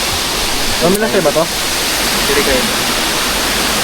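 River water flows at Nasugbu as a steady, broad rushing wash, with a short stretch of speech over it.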